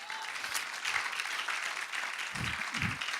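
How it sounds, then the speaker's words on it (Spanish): Church congregation applause during a sermon, a steady wash of clapping from many hands with a couple of low thumps near the end, moderately loud and without speech. "Demos un aplauso a nuestro Dios."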